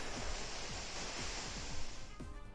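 Kyogre's Water Spout attack in a Pokémon VGC battle game makes a steady, rushing wash of water like surging surf, with faint rhythmic thumps underneath, lasting a few seconds without talk.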